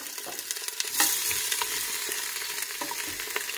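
Chicken thighs sizzling and frying as they brown in a pressure cooker, a steady crackle with scattered pops and stirring scrapes, close and moderately loud.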